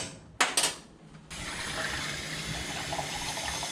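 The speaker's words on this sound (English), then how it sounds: "gonna put enough water in here to cover it all" Water from a kitchen tap gushing into a pot for cooking corn, starting with a few splashy bursts and then settling into a steady, filling rush that continues to the end.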